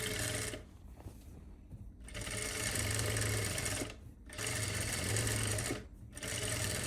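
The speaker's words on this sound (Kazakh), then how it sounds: "Қазір мынаған оверлок тігіп, сосын ең соңғы тігісті тігетін боламыз." Overlock sewing machine running in three sustained bursts of stitching through fabric for a dress, a steady loud mechanical whir broken by short pauses, with no talking.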